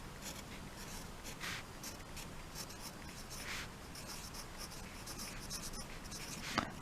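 Pencil writing on paper during a geometry lesson, a soft continuous scratching with a few brighter strokes, steady and close, with no voices.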